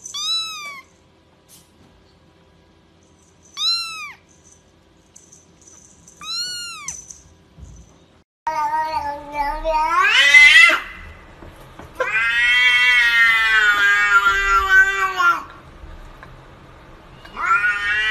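A kitten meowing, three short, high mews spaced apart, then louder, longer and more insistent cries toward the end, close to the microphone.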